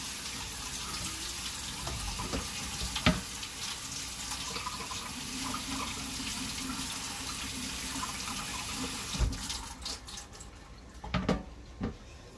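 Cranberries are rinsed under a running kitchen tap, giving a steady close hiss of flowing water with a few splashes and drips as the berries are handled.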